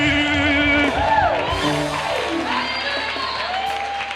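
A worship congregation cheers and shouts in praise for Jesus, with loud whoops and sliding, rising and falling voices over a steady murmur of crowd noise, carried across a few seconds.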